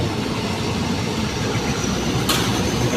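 A train rumbles steadily nearby at Chansen, near Takhli, Thailand, with continuous low mechanical roar and rolling noise, with a brief hiss partway through.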